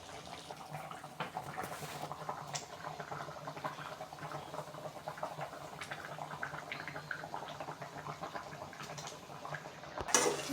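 Chicken varuval simmering in a pan as its water cooks down, a faint, steady bubbling hiss with scattered small pops and ticks, ending in a sharp clink near the close.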